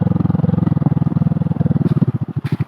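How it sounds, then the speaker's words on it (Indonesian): A trail motorcycle rides a steep, winding hillside road with rocky climbs and descents. Its engine chugs in a steady, loud, rapid thumping pulse close to the listener, with a slight rise near the end. "Kita punya motor trail nih"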